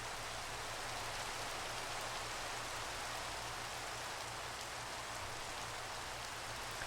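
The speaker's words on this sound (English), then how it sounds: "Now it's raining?" Steady rain falls in Minecraft, a soft, even hiss of drops on surfaces continuing unbroken at a fairly low level, with no voices over it.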